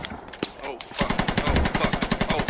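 Close, rapid automatic gunfire rattles out in a fast, even burst after a few scattered earlier shots, with a voice talking briefly under it.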